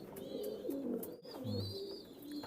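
Imported Omani teddy pigeons coo close by in soft, low, repeated rolling calls, with faint chirps above them.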